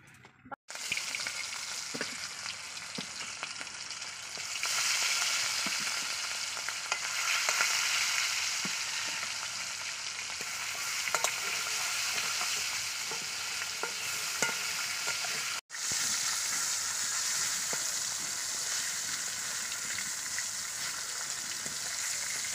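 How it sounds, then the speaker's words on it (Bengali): Rohu fish frying in hot oil in a wok gives a loud, steady sizzle with dense crackling that runs almost unbroken, with a brief gap near the start and another midway. "আগে আমি প্রথমে কড়াই বসিয়ে দিয়েছি, মাছটা আগে ভেজে নেব"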